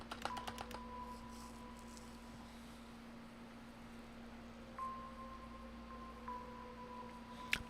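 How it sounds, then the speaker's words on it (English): Faint keystrokes on a computer keyboard as a phrase is typed: a quick cluster of clicks at the start, then a few scattered taps over a steady electronic hum and thin tones. "Should I try just typing that whole phrase in?"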